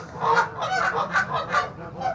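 Geese at a pond honk repeatedly in a loud, close, rhythmic series of nasal calls, several birds overlapping in quick succession.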